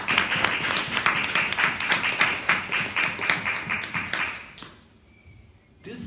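An audience at a devotional gathering claps for the cook who prepared the prasadam meal, a fairly close burst of individual hand claps that fades away after about four and a half seconds, leaving near quiet.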